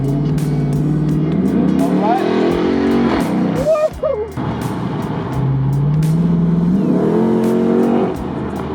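A Chrysler 300 SRT8 revs hard through its exhaust, rising and falling in loud repeated pulls close by, with a brief lull in the middle while people talk over and between the engine bursts.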